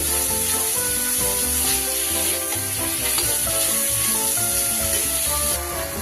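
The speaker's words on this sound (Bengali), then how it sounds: "গ্যাসটা কমিয়ে দিয়ে আমি কিন্তু সুন্দর করে চিকেনটাকে মিশিয়ে নিচ্ছি।" Chicken pieces releasing their juices sizzle steadily in a pan over lowered gas while being stirred, giving a loud continuous frying hiss broken by gentle rhythmic scrapes, with no talking.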